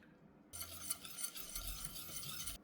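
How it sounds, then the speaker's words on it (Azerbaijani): Sugar, flour, cornstarch and milk being whisked in a bowl for a cream, a continuous soft swishing and scraping for about two seconds, close and quiet, with silence before and after. "Üzərinə biraz süd əlavə edib topaq qalmayana qədər qarışdırıram."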